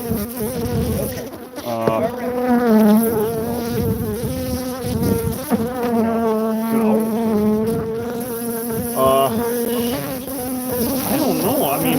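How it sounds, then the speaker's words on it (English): Killer bees swarm inside a honey cupboard, making a loud, close, continuous buzz with dense droning layers that swell and shift but never pause. "Look at all these guard bees."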